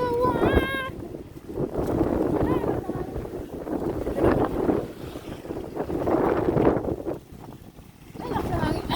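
Strong wind buffets the microphone outdoors beside houses and flowers, roaring in uneven gusts that rise and fall, with a brief high sound at the start.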